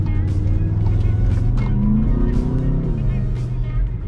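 Skoda Kodiaq RS 2.0 BiTDI 240 hp biturbo diesel, 4x4 with DSG, driving with a steady low engine drone and road rumble, sitting close and fairly loud throughout.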